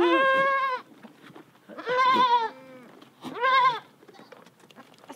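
Goats bleat in the open desert near Petra, with three distinct, fairly close calls separated by quiet pauses and faint background noise.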